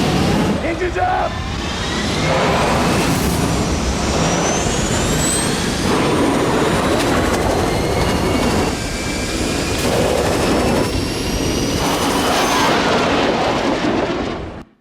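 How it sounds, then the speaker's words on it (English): Spacecraft engines in the film Interstellar roar loudly and steadily for about fifteen seconds. Rising whining tones streak over a dense rumble before the sound cuts away at the end. "Engines up!"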